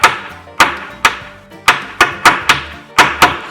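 A hammer taps a rivet on a chainsaw chain link for a Stihl MS250, eight crisp metallic strikes at an uneven pace, each ringing briefly, close and loud with no talk.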